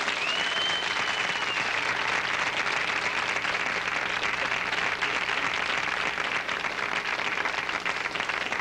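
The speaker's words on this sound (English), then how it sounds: "Now, those of you who think that Father Case should stay with the Catholics, would you applaud?" A studio audience on a late-night talk show breaks into loud, steady applause that fills the room evenly for the full stretch, with a brief high whistle near the start.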